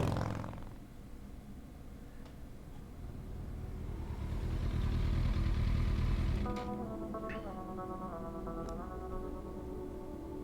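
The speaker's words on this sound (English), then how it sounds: "Oh, she's got a motorcycle." Motorcycle engine in the Kathy Rain video game, a low rumbling idle that swells louder midway, then settles into a steadier running tone with stepped harmonic changes; no talking over it.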